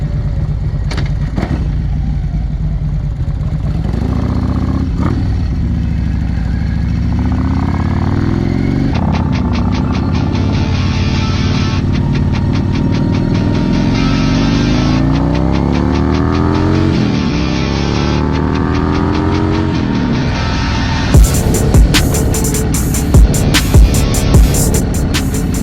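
A motorcycle rides on roads through historic Virginia, its engine droning loud and close with rising and falling revs through gear changes, plus wind buffeting and a few sharp knocks toward the end.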